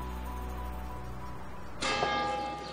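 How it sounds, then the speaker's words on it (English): Church bells ring out over a steady outdoor hum in a town square with a 17th-century basilica, starting suddenly partway through and sounding bright and full, with a clear ringing tone. "listen to that, the church bells in the square"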